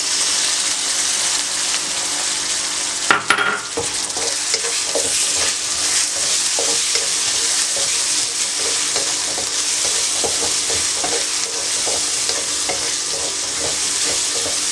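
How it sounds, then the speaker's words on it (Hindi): Tomatoes and chickpeas fry in a pan while a spoon stirs them continuously; a loud, even sizzle runs throughout, with soft scraping taps and one sharper clatter early on. "चम्मच मसलसल चलाएं ताकि ये जले ना और टमाटर नरम भी हो जाए"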